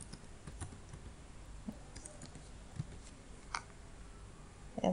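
A password is typed on a computer keyboard, sounding as faint, scattered keystroke clicks in a quiet room.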